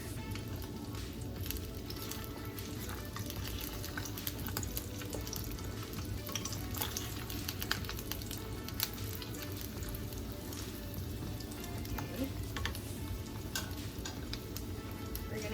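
Birria beef frying in a pan, a steady, faint sizzle with small crackles and occasional stirring clatter, continuing without talk.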